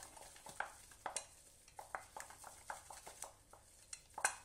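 Choux pastry dough of cooked panade and eggs is beaten in a bowl, giving quiet, irregular sticky slaps and scrapes at a quick stirring rhythm, close up with no talking.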